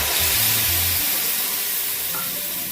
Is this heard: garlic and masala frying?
yes